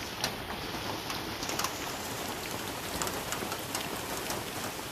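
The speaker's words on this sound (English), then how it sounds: "It's been non-stop raining for hours already." Heavy rain pours down steadily in Hawaii during a days-long storm, a dense, continuous hiss of drops striking surfaces with scattered sharper spatters, close and unbroken with no voices.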